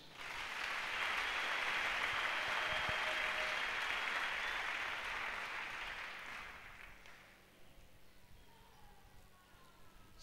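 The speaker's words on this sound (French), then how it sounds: "Acclame Jésus" A church congregation applauds in a sustained, dense wash of clapping for about seven seconds, then it fades into quieter room noise.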